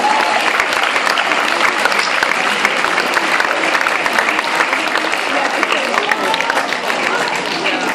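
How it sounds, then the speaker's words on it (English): School leavers at a high school leavers' event applaud themselves in a dense, sustained wave of clapping that fills the hall at steady loudness from start to finish. "give yourselves a massive round of applause"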